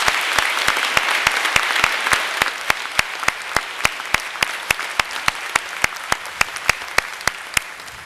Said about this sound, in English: I want you to help me thank our musicians and Kathy Leach and the trumpets